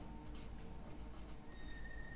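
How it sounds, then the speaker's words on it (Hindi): Writing during a class 7 maths lesson on rectangle perimeter and area, a faint continuous scratch of pen or chalk, quiet and brief, with no talk. "अब देखो लिख लेते हैं।"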